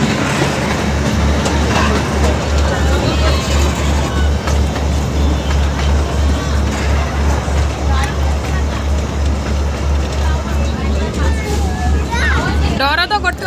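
Riding the Matheran toy train, a steady rumble with a rhythmic clickety-clack of wheels on rails runs throughout, loud and close, with people talking and ambient noise over it.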